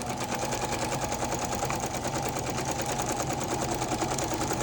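A sewing machine runs a zigzag stitch through junk journal paper, its rapid, even mechanical chatter heard up close and loud, steady throughout with no talk.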